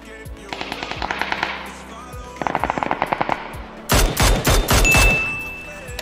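Automatic weapon fire in the PUBG video game comes in rapid bursts of shots, then heavier, louder volleys near the end, with almost no talk.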